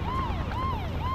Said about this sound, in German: Yippie, Krankenwagen fahren!